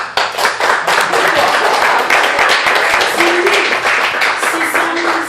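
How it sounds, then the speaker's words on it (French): Audience applause for the organiser of a jazz café gathering in a reserved room, dense steady clapping throughout, with some voices and whoops mixed in. "une main d'applaudissement pour Mohamed."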